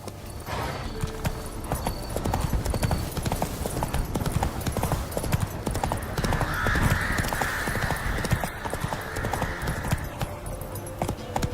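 A horse gallops in The Witcher 3, its rapid hoofbeats drumming without a break for several seconds over loud ambient game sound, with a brief swelling whoosh partway through.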